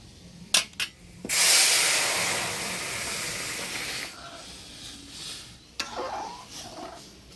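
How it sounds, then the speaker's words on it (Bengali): Boiled sona moong dal is poured into a hot tempering of chilli, bay leaf, crushed ginger and panch phoron, bursting into a loud, steady sizzle that slowly eases off, with a few clatters of the pan at the start. "এবার দিয়ে দিচ্ছি সিদ্ধ করে রাখা ডাল"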